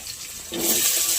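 Chopped onions tipped into hot, slightly darkened oil for a village-style desi chicken curry, setting off a sudden loud sizzle about halfway through that then holds as a steady, close hiss.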